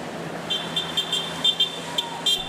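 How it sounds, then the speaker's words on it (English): Car horns honked by demonstrators outside a courthouse in Stoughton: a series of short, fairly faint toots repeating irregularly over a low street background. "Supporters of the blogger honked and demonstrated outside the courthouse in Stoughton as Aidan Kearney was led inside"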